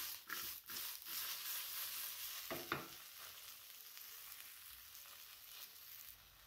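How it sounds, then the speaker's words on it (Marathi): Okra (bhindi) fries in a pan for a fasting-day dahi bhindi, giving a soft, steady sizzle. A few scraping stirs come near the start, then the sizzle carries on alone and fairly quiet. "मस्त अशी फ्राय करून घ्यायची"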